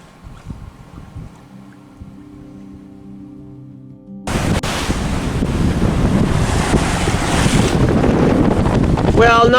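A sailboat in the Grenadines slices through 1.5 to 2 metre waves in 15 to 20 knot winds. A quiet tonal hum gives way to loud, continuous wash, spray and wind buffeting on the microphone.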